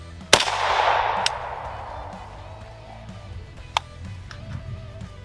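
A single sharp handgun crack is fired into a spaghetti squash, followed by a short echoing decay, then near quiet with a few faint clicks and taps.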